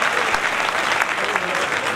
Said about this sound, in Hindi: अगर समझ गया तो जोरदार तालियां बजाओ